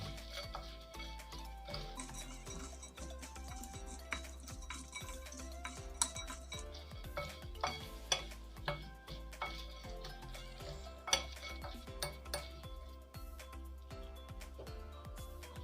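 Roasted chickpeas, roasted peanuts and roasted almonds are tossed together in a bowl for a mochai payaru snack mixture, giving faint, close rattles, clicks and scrapes of a spoon at an uneven rhythm.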